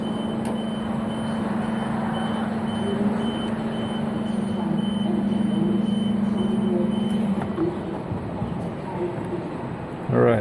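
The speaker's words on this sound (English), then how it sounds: "Drive reverse." A Niftylift HR21 boom lift drives in reverse, giving a steady mechanical drone with a continuous low hum that holds for about seven seconds and then stops. The sound is close and moderately loud, with no talking.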